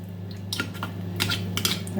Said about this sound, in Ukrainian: А я зараз виделкою його так розмішаю.